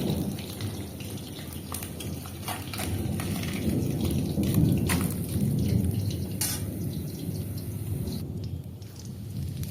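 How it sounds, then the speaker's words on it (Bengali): Thunder rumbling from heavy clouds during a rainy spell at a rural outdoor kitchen, a low distant roll that swells in the middle, under a steady patter of rain with a few sharper drips and no talking. "এদিকে এত মেঘ ডাকছে"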